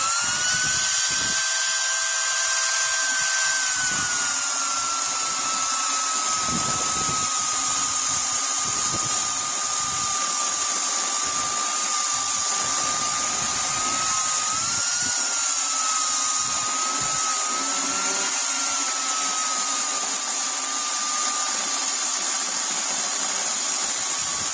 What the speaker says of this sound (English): Seems like for electric saw, a chainsaw's got a lot of power, really good power.